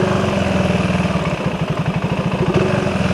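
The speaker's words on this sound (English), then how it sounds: "Let's just do idle in neutral." A 2025 KTM 390 Enduro R idles in neutral, its single-cylinder engine giving a steady, fairly quiet thrum that fluctuates slightly partway through.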